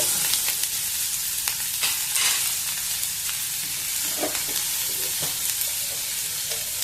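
Onions frying and softening in a pan for a potato curry, a steady close sizzle with occasional stirring scrapes and clinks, no voices.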